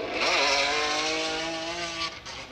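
Drift cars in a Formula Drift qualifying run in St. Louis, 2018, shrieking loudly on Nitto tires. Engines roar under a sustained tonal tire squeal that rises and holds close, then fades slightly at the end.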